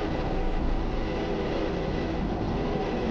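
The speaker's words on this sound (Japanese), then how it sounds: "ちょうど特急オーシャンアロー号が通過していきました。" A JR West Ocean Arrow limited express train rushes past a level crossing near Fukushima Station in Osaka, a loud, steady, close rumble of rolling wheels that holds throughout.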